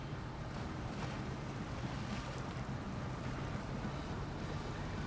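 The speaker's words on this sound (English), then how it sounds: "We got the truck through that river, no problem." A heavy truck crossing a river in the SnowRunner video game, with a steady wash of splashing and rushing water and a low engine rumble running loud and constant throughout.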